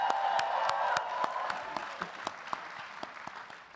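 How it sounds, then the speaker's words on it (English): A large graduating business school class applauds at a class day ceremony, a broad crowd roar of clapping that slowly thins, leaving scattered distinct claps toward the end. "Give yourselves a round of applause."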